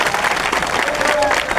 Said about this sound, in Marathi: एकदा हडल साहेबांसाठी जोरदार टाळ्या झाल्या पाहिजे.